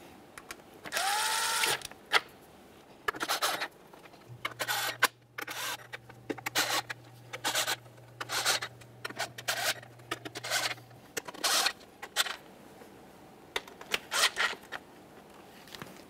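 Ratchet tool clicking in short bursts while bottoming out the rear valve cover bolts on a 2007-2013 Acura MDX 3.7L V6, with a faint steady hum in the middle stretch and quiet pauses between bolts.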